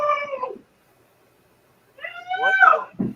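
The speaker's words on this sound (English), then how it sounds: "That is a cat. That's my cat." Domestic cat on a porch giving two drawn-out, wavering meows and howls, close and fairly loud with a silent gap between them, alone with no talk over it.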